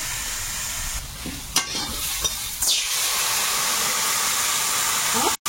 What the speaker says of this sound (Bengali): ভালো করে ভেজে নিয়ে জল দিয়ে দিলাম।